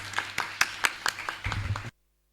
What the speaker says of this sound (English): A huge round of applause for sir.